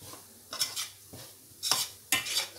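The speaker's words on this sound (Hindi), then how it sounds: "सूजी को हम अच्छी तरह भूनेंगे।" Semolina (sooji) being roasted on low heat for halwa, stirred in a pan: three distinct scraping stir strokes, close and fairly quiet, with brief pauses between them and no voices.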